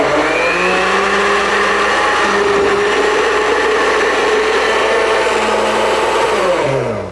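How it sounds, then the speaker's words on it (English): A kitchen blender whirs through peaches, with a loud continuous motor drone whose pitch shifts as the fruit breaks down, slowing near the end, and no talking over it. "pop our peaches into our blender"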